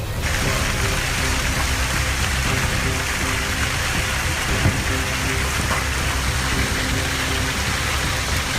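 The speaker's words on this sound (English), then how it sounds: "Large hailstones up to 5 cm in diameter fell, along with heavy rain and lightning." Dense, heavy rain pours steadily during a hailstorm in France with a constant loud hiss, a faint low engine hum underneath and an occasional tap of hailstones striking.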